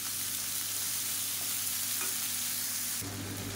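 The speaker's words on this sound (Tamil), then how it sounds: "இப்போ பாருங்கள், தக்காளி நல்லா வதங்கிடுச்சு" Chopped tomatoes cooking down with salt in a pan, giving a continuous loud sizzle with stirring, and the pitch of the frying shifts slightly near the end.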